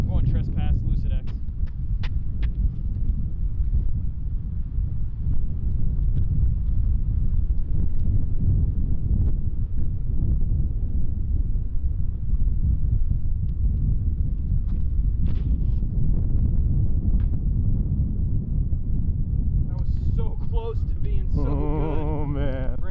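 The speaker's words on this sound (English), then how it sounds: "There is a little bit of wind." Light wind buffets the microphone in a steady low rumble across a disc golf course, with a voice briefly heard near the end.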